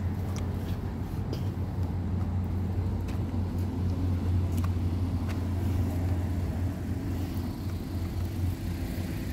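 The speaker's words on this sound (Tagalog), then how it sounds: "nandito na po mayroon na pong malaking bus" A large bus rumbles along the street nearby, a steady low engine drone with faint ticks and clatter, close and continuous with no speech.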